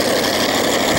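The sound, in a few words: multi-engine pulling tractor Super Thing, five engines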